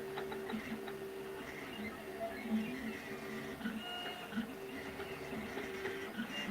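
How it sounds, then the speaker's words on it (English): 3D printer running mid-print, a low steady mechanical rumble with faint whirring stepper tones and soft irregular clicks, quiet and continuous with no talk. "printer's rumbling"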